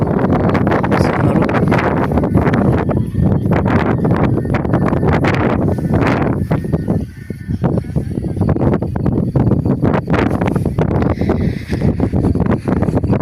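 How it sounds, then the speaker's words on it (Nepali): Strong wind sweeps along a riverbank near the Tulcea River in Romania, a loud, continuous rushing roar that buffets the microphone, with a brief lull midway before the gusts return. "मिठो हावा चलिरहेछ है यहाँ चाहिँ"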